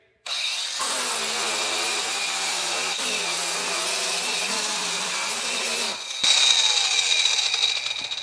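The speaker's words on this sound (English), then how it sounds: "now we'll just dress these welds a little bit with our sander" An old 1930s Sioux 7-inch two-speed sander dressing welds on a Model A Ford rear crossmember, a loud steady grinding whine that shifts in tone partway through and then continues.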